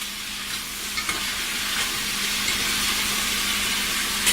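Roasted garlic, shallots, Italian sausages and rapini being stirred together in a hot pan, a steady close sizzle with a few soft spatula scrapes and taps, no voices.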